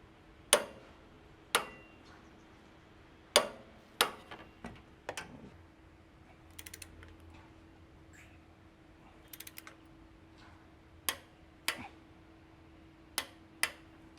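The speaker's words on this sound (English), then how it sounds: "Now it's time to torque all the bolts to the recommended setting in the fitting instructions." A torque wrench tightens tow point bolts on a Toyota HiLux, giving a series of sharp, isolated clicks spaced irregularly over quiet background, some single and some in quick small clusters.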